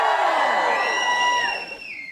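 A crowd at a talk on art and feminism whoops and cheers, a loud mix of voices that swells for about two seconds and then fades.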